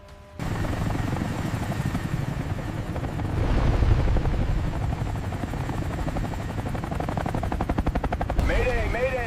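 A CH-53K King Stallion helicopter thunders close by with steady, loud rotor chop and a whining turbine throughout, rhythmic blade beats pulsing steadily and radio-style voices faintly woven in.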